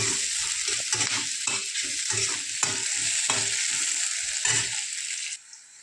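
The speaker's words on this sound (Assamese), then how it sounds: "পিঁয়াজখিনি ভাঙা হোৱাকৈ ভাজি ল'ম।" Onions sizzle in hot oil as they are stirred and fried for Assamese chicken ghugni, a steady close crackle broken by rhythmic scraping strokes of the spoon, fading quieter near the end.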